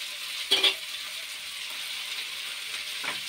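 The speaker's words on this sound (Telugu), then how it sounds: "ఇవన్నీ కూడా మంచిగా ఫ్రై అవ్వాలి." Tomato and coriander fry gently in a pan, a low steady sizzle with two brief bursts of stirring, fairly quiet and close.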